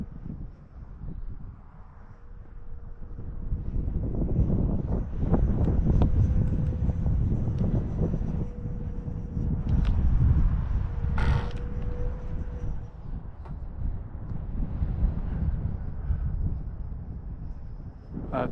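Strong outdoor wind buffets the microphone in a continuous low rumble, with faint mechanical whine and creaks from a model jet flying overhead.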